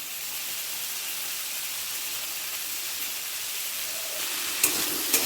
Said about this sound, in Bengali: আলুগুলোকে ভাজতে ভাজতে লো ফ্লেমে সেদ্ধ করে নেব